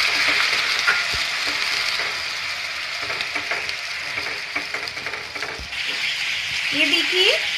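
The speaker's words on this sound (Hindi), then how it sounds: "हमारा प्याज सिक रहा है" Ground onion paste fries in oil with cumin and bay leaf, a constant bright sizzle with light scraping from stirring, growing a little louder near the end, with no words spoken.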